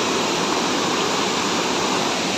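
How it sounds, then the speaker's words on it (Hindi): Waterfall at Uparbedi (Kuemari) falls near Keshkal, Chhattisgarh, India, water plunging from above with a steady, loud, broadband roar that holds unbroken throughout, with no voices. "यहाँ से गिरते पानी मस्त है ऊपर से"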